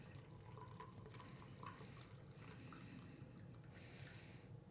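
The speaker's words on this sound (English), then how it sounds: "The sweet sound of poured coffee." Coffee poured into a cup at a home desk, a quiet steady liquid trickle with faint splashing over a low background hum, running for several seconds without talk.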